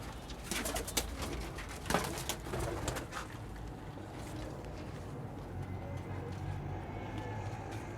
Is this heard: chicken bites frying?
no